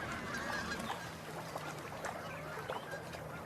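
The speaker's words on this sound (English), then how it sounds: "The geese are starting to return from their wintering grounds." Wild geese honking while returning from their wintering grounds over Bohemian wetlands in late winter, a busy scatter of overlapping calls at middle distance over steady outdoor ambience, with no speech.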